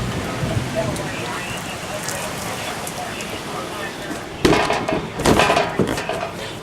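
Steady rain pours during a thunderstorm with a possible tornado in Carrollton, a dense continuous hiss with louder bursts and knocks near the end.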